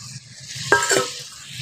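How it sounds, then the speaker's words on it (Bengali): Morola fish goes into a pan of boiled potatoes with a short wet stir and a brief sizzling burst against a low simmering hiss, with no talking. "এবার আমি মাছটা দিয়ে দিচ্ছি।"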